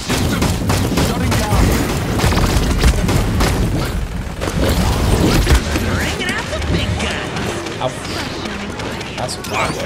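Cannon fire and explosions roar in a video game battle, a dense, loud, continuous barrage of booms and bangs with voices shouting over it.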